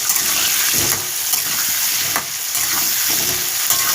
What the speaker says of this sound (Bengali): এবার তেল গরম হয়ে গেছে আলুগুলো ভেজে নেব